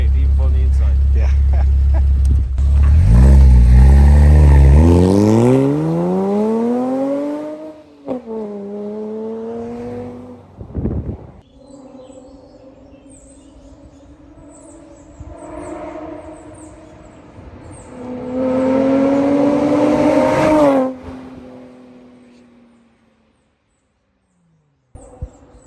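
A car fitted with a new Soul Performance full aftermarket exhaust revs up with a deep, rising and falling engine roar, heard close from inside the cabin, with people talking between the pulls.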